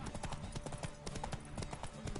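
Steady clip-clop of video game horse hooves trotting at a quick, even rhythm, fairly faint, with a bit of background noise.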